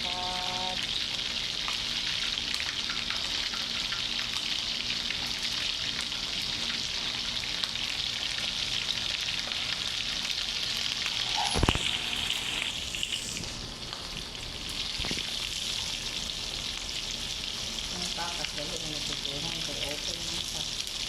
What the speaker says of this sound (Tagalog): Nanarasik ng mantika